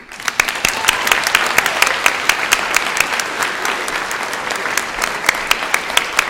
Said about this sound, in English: let me ask that we send them off with a round of applause